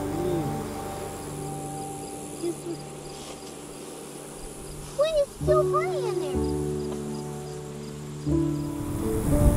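Honey bee swarm buzzing around a hive foundation, a dense continuous insect hum close by, with voices talking over it and a few brief exclamations.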